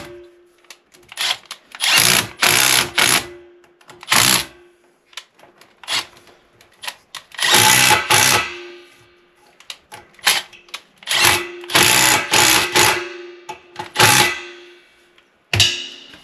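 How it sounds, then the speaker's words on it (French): A power tool tightens hose clips on a plumbing connection during a well-tank replacement, firing in repeated short buzzing bursts with sharp ratcheting rattles, loud and close, separated by brief quiet gaps. "Je viens serrer mes clips."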